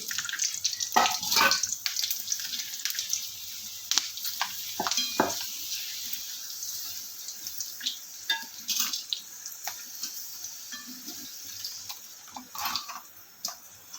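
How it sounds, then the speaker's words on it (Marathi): Papad fries in hot oil with sharp crackling sizzles and bursts of bubbling, close and uneven, with quieter stretches between louder pops and no voices. "मी पापड पण तळून घेत आहे"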